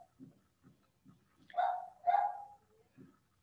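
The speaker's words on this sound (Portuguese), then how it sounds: "vocês vão ouvir cachorrinho latindo, que é o cachorrinho do meu vizinho" A neighbour's small dog gives two sharp, close yaps in quick succession, with soft low thumps ticking regularly in the background.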